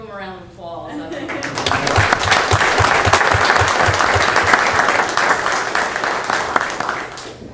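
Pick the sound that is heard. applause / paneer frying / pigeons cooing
applause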